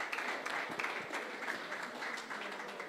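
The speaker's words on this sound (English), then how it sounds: "I think the applause says it all, sir." Sustained applause from a crowd at the prize ceremony of the Calance Open 2025 golf tournament at Qutab Golf Course, Delhi. The clapping stays steady and dense for the whole stretch, with no voices.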